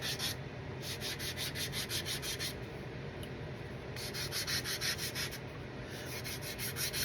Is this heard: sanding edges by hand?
yes